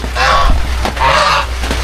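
Two loud, nasal honks from a goose nearby, each drawn out for about half a second, over a steady low background hum.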